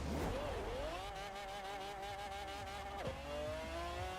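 Virtual F1 GT car in Forza Horizon 4 accelerating hard through its gears, a steady rising engine whine with a sharp gear change near the three-second mark, loud and continuous with no talk.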